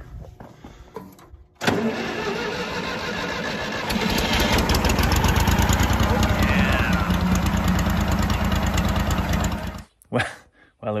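An old engine cranks on a battery charger with the choke on, catches, and settles into a loud, steady idle close by that runs for several seconds before cutting off, followed by brief talk.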